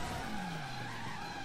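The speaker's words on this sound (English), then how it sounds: "you'll get this kind of spin out effect" Tires skid as a car spins out in the Driver San Francisco video game, a sustained screech with a descending tonal sweep over steady engine noise lasting the whole moment.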